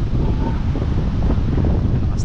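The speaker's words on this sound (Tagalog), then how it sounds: "Lakas ng hangin." Strong wind buffets the microphone with a constant low roar and rumble throughout, on the Gumaca bypass in the Philippines.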